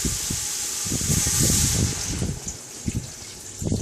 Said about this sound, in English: the very next thing you're going to be doing is adding water, because this is going to make a stock for the soup.